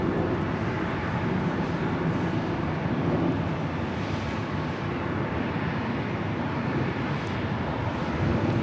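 Fiji Airways Airbus A350-900 arriving at LAX, a steady broadband roar of jet engines held at an even level throughout, with wind buffeting the microphone and no talk.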